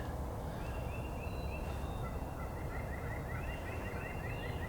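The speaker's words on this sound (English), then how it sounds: "I've got two toms I've had gobbling down below me" A wild turkey tom gobbles repeatedly in rolling bursts, fairly distant, over a constant outdoor rushing background.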